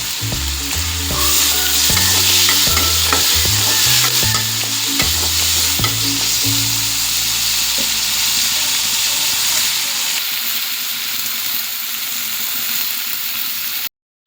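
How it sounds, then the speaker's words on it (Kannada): Onion and chopped tomato fry in oil in a pan, giving a loud, steady sizzle with repeated scraping stirs early on, then a softer continuous frying hiss to the end. "ಈರುಳ್ಳಿ ಮತ್ತು ಟೊಮೆಟೊ ಫ್ರೈ ಆಗಿದೆ"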